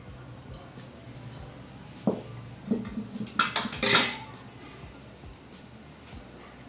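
A kadai pan is set on a stove while cooking chilli chicken, with a cluster of metallic clanks and clatters in the middle of a quiet kitchen. The sound is moderately close and no one speaks.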